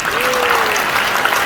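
A brief burst of crowd applause at a church youth rally, a dense clapping wash lasting about a second and a half, with a voice faintly sounding under it.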